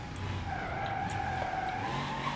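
A car in BeamNG.drive skids through a handbrake turn, its tires giving a sustained wavering squeal over a steady engine drone, moderately loud and continuous with no talk.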